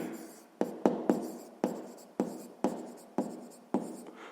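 Pen strokes on paper while a maths answer is written out by hand, a steady run of about nine close, crisp scratching strokes, each starting sharply and trailing off, with no talk.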